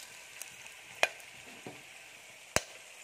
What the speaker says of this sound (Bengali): তেজপাতা তেলের মধ্যে দিয়ে দিলাম